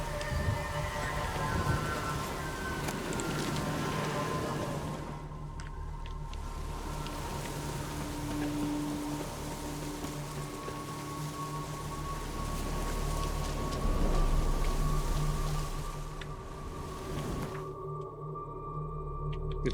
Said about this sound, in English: I don't think that's good news about the storm.